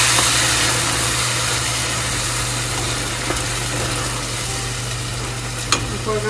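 Blended seasoning is poured into a pan of dry, toasted rice, setting off a loud, steady sizzle that hisses on continuously, close by.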